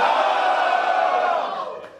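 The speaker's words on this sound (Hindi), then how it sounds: "वो एक बार जरा चिल्ला के दिखाएंगे।" A large audience at a corporate dealers meet shouts loudly together, a sustained roaring cry that holds steady and then fades, with no one speaking over it.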